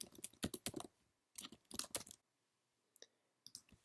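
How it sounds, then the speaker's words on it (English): Random typing on a computer keyboard, bursts of rapid clicking keystrokes in short runs separated by pauses, close and fairly loud, with a few isolated taps near the end. "We'll just start typing randomly."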